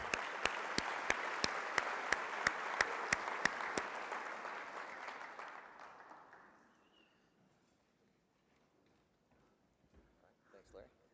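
Loud applause from a convention audience greets a speaker coming up to the podium, with sharp claps standing out in a steady wash of clapping that fades away over several seconds and gives way to near silence.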